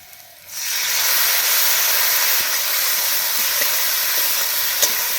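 Green chili paste hits a pan of frying potatoes for a sour bata fish curry, bursting into a loud, dense hiss that starts abruptly and holds steady and close for several seconds.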